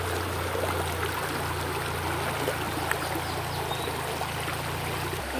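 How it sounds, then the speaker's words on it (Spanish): Fast, rough river water rushes and churns steadily while a person wades across the Rio Bravo, a dense, loud, continuous roar heard close up with no talking. "Miren, está fuerte la chorrera."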